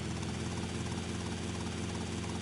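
Sparrow helicopter flying in GTA Vice City Definitive Edition, a continuous close rotor and engine drone with a rapid steady blade chop, loud and unbroken, with no talk over it.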